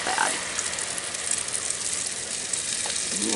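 Steady hissing sizzle of cornbread batter frying in a hot pan, close and continuous throughout, with faint clatter in the background.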